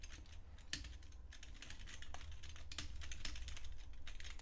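Computer keyboard typing, a steady run of light key clicks with occasional sharper taps, close and fairly quiet, alone without speech.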